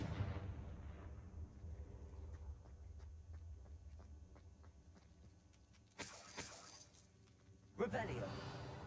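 Confringo blasting spell in Hogwarts Legacy, two sharp bursting explosions with shattering debris, one midway and a louder one near the end, following a stretch of quiet crackling.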